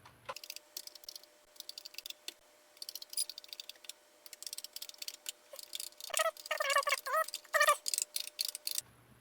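Keys on a repaired Commodore PET keyboard are pressed one after another in irregular bursts of crisp, close clicks, growing louder and faster toward the end, with no talking.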